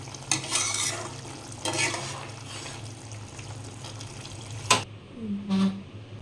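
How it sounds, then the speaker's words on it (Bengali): Pepper being stirred into a thin Mourola fish curry in a pan, with a few distinct scraping strokes of a spoon amid a soft simmer, close and moderate, ending in a sharp clink. "গোলমরিচটা দেওয়ার পর একটু নাড়াচাড়া করব"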